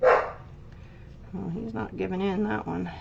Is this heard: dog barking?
yes